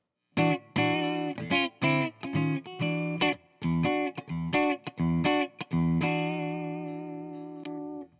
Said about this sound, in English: Here's a combination, the outside coils.